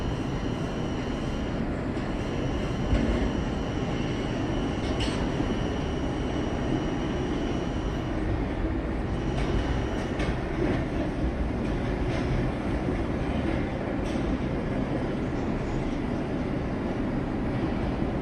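A Roblox IRT mainline subway train keeps up a continuous heavy rumble for the whole stretch, with occasional faint clicks and tonal whines over the steady roar and no talking.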